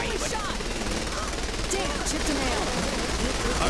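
Rapid gunfire in the video game Saints Row The Third during a co-op gang fight, dense and continuous over a noisy action backdrop, with excited players talking over it.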